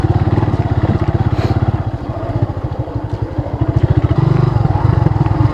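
A motorcycle loaded with a heavy top box rides fast, its engine giving a close, loud, rapid pulsing throb that dips briefly and then rises again, with no one talking.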